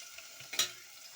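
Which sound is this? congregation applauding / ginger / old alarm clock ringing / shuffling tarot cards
ginger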